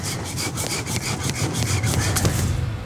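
A wire saw cutting through a tusk on a 220-kilogram pig, heard as steady, rhythmic rasping back-and-forth strokes, close and fairly loud, with no talking.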